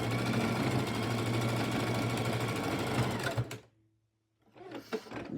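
A sewing machine stitches a fabric tote bag in one long steady run of fast mechanical whirring, then stops abruptly for a brief pause before a short burst of stitching resumes.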